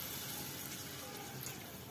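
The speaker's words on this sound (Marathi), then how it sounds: "आपण त्यात थोडं कोमट केलेलं पाणी ऍड करणार आहोत" Lukewarm water poured into a pan of prawn curry, a soft, steady broadband splash lasting the whole moment, fairly quiet and close with no talk.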